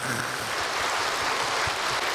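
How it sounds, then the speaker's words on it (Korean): A church congregation claps together during a sermon, a thick, continuous wash of many hands at a steady level throughout, with no voices standing out. "그냥 아멘 하지 말고 막 박수도 치고."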